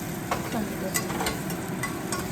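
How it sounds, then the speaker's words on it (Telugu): Mustard seeds, garlic, onion and dried red chillies tempering in hot oil, giving a steady close sizzle with faint crackles and a few light stirring scrapes. "కొంచెం ఆవాలు, వెల్లుల్లి అండ్ కొంచెం ఆనియన్, ఎండుమిరపకాయలు వేసి తాలింపు వేసాను"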